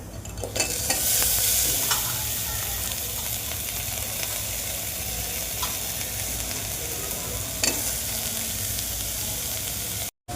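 Ingredients for tikhat bhagar, a spicy fasting dish, sauté in a pan with a steady, loud sizzle. Stirring scrapes run over the sizzle throughout, and the sound cuts off abruptly at the end.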